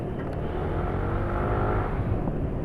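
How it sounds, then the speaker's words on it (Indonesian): A Yamaha scooter engine roars steadily up close, a loud continuous mechanical drone with a slight rising rev and no voices. "suara yang khas motor ya, kayak suaranya ini NMAX atau motor-motor Yamaha ini"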